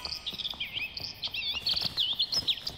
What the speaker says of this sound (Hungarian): te aztán jó hangosan csipogsz